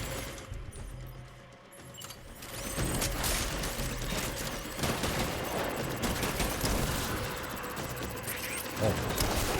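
Gunfire in Death Stranding rattles in rapid, dense bursts over several seconds, a loud, near, continuous automatic clatter mixed with mechanical clanks.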